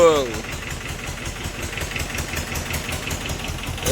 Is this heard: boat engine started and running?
yes